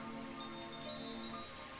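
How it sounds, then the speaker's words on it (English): Steady rainfall in the Higurashi visual novel game, a continuous even hiss of falling rain with faint tonal background music, no voices. "the cold air and the sound of the rain didn't change a bit"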